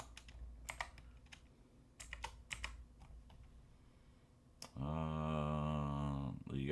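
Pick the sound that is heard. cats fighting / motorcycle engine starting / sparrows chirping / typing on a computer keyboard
typing on a computer keyboard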